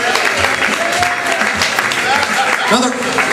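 Audience at a Willoughby Brewing Company comedy night keeps clapping for comedian Kirk Bogos, a dense continuous wash of applause with some voices underneath.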